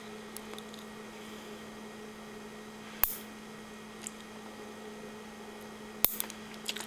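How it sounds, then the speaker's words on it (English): Nail clipper snipping a fingernail straight across, heard as two sharp, close clicks spaced a few seconds apart over a quiet room hum. "So try to make that as straight as possible with the nail clipper."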